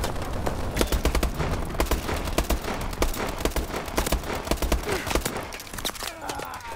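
Rapid bursts of gunfire in a Call of Duty match, dense overlapping shots and automatic fire crackling steadily throughout, fairly loud and close, with scattered game sounds and no talk.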